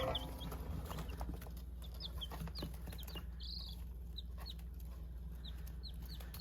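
Black copper Marans and Easter egger chicks in a brooder peep with quick, high chirps scattered throughout, set over a steady low background hum.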